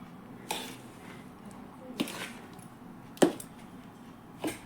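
A spoon stirs a fenugreek ladoo mixture in a pan, giving four spaced scraping knocks against the metal over a quiet, steady background.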